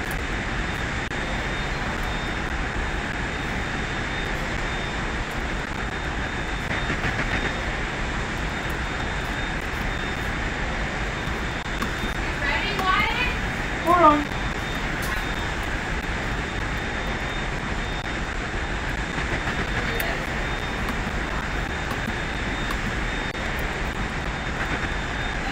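A steady, droning aircraft engine hums throughout a long stretch of flight, a constant broadband roar with a faint brief rise near the middle and no talking.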